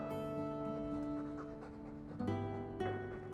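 A dog pants in the video game Dragon Age 2, quick rhythmic breaths over a sustained humming game music backdrop, moderately close with no talking.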